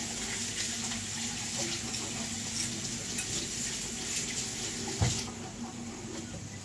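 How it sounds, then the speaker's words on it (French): Tap water runs steadily as something is rinsed under a faucet, a continuous close splashing hiss with a brief louder gush near the end. "Je rince."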